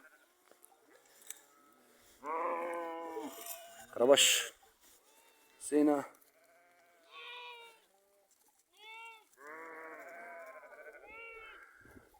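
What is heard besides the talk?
sheep bleating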